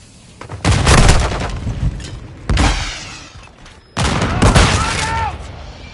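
In the Call of Duty video game a grenade bursts with heavy booms amid rapid gunfire, three loud bursts of shooting and explosions with a voice shouting in between.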